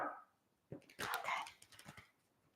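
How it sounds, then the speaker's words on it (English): A neighbor's dog barks a few times in the distance, faint and muffled, with a short burst of sharper yelps in the middle. "my neighbor's dog is barking. Can you hear that?"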